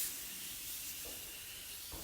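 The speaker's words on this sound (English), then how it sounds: "So, deal with this stuff is you spray it on." Super Clean degreaser sprays onto a dirty grill in a shop, making a faint airy hiss with a couple of short spray bursts near the end, quiet and close.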